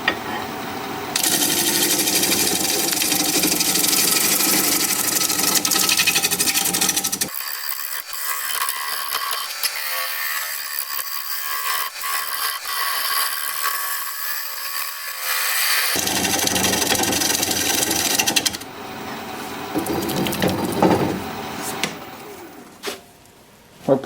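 A wood lathe spins a log being turned into a vase while a cutting tool bites into it, giving a loud continuous whirring, rasping drone. The tone shifts midway as the speed is raised, and the sound eases near the end.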